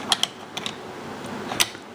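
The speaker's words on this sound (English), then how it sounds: "Here we have how the bolt mechanism works." The bolt of an FN FAL rifle is worked by hand, giving a few faint, light metallic clicks and clacks in a quiet room.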